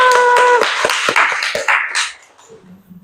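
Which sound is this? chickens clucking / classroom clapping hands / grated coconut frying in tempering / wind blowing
classroom clapping hands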